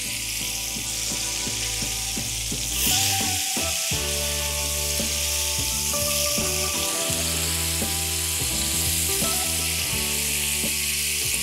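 Chicken pieces brown gently in a hot frying pan with a steady, close sizzle throughout, under a bed of background music.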